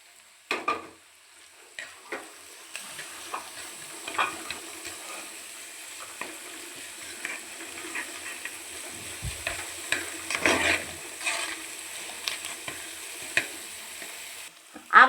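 Green chillies and softened onions frying in oil in a pan for a breadfruit and dried shrimp masala, a steady close sizzle broken by scattered scrapes and taps of a utensil, with a sharper clatter at the very end.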